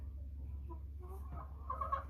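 A single American Bresse hen gives a few soft, low clucks over a steady low hum, faint and fairly close, with no talking.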